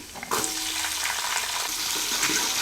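Curry leaves, garlic and onion spit and crackle loudly in hot oil for a sambar tempering, a steady close-up sizzle that bursts in suddenly and holds, with faint stirring clicks and no voices.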